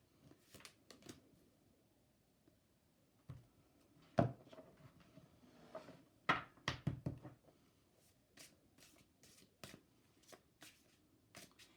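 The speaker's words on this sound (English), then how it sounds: "So we're going to throw down a few of these cards." A deck of reading cards is shuffled and handled, giving soft riffling bursts and light taps at irregular intervals, close and quiet with no talking.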